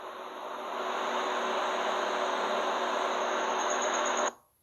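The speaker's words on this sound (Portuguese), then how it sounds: "Tá ouvindo bem, então vou deixar o ventilador." An electric fan runs in a room with a steady, close, even whoosh and hum that swells in at the start and then cuts off abruptly near the end. No voices are heard.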